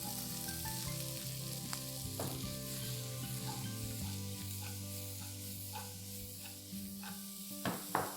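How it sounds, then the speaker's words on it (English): Roughly cut red onions frying in a hot wok over high flame, a steady close sizzle with a low hum beneath and a few clinks of stirring toward the end, no voices. "The wok is hot enough. Let's add in red onions,"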